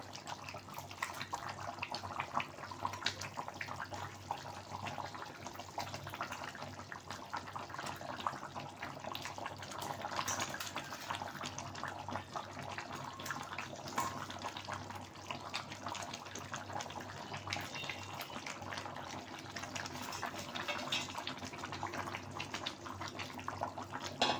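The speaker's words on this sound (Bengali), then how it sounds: "মাছগুলোকে আমি দিয়ে দিচ্ছি ঝোলে। ঝোলটা ফুটে উঠেছে।" Small chela fish simmering in boiling curry gravy in a pan, a soft, continuous bubbling hiss that stays even and steady at close range, with no talk.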